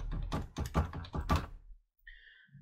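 Several close key presses on a computer keyboard as a roll number is entered, a quick run of clacking taps followed by a pause.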